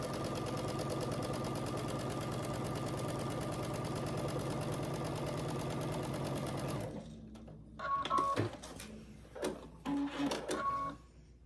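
A sewing machine stitches pieces of a quilt pinwheel block together in a continuous rapid whir for about seven seconds, then stops, leaving a few short clicks and handling noises.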